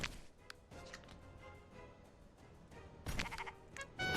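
Sheep bleating in a video game, a few short cries over a busy game background of taps and clicks, with a louder burst of activity near the end.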